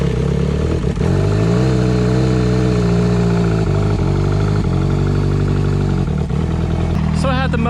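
An outboard boat engine starts up on its first attempt after repair, then runs with a loud, steady, buzzing drone close by for the whole stretch, its pitch wavering slightly as it settles.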